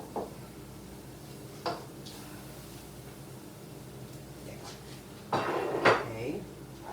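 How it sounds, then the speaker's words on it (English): Broccoli soup stirred in a pot, a few sparse spoon clinks and metallic scrapes against the pot over a quiet background, ending with a louder clatter of utensils. "Stir it up really good."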